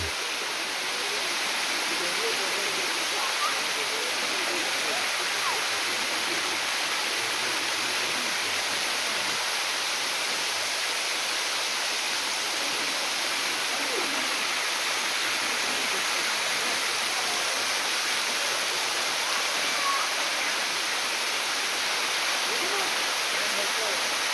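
Geliyê Godernê waterfall roaring steadily, a dense, loud, unbroken rush of falling water filling the whole clip at close range.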